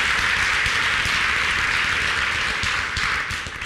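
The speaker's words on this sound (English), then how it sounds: "what I want is a round of applause for Jorge Luis Borges" A lecture audience applauds for Jorge Luis Borges, dense and sustained clapping from many hands that holds steady before thinning slightly at the end.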